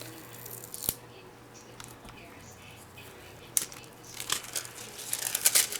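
Silver cold foil being picked off tape by hand gives sparse, quiet crinkly ticks and small tearing rustles, with a denser burst of crackling toward the end and no talking.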